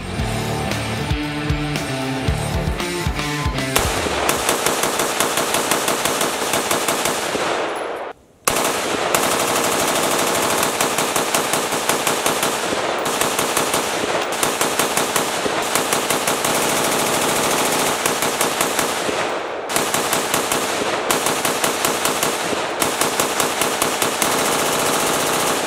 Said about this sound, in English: 500 rounds down range in order to see if that accelerated rate of fire causes any issues